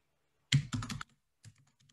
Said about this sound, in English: if we type in a name for the filter here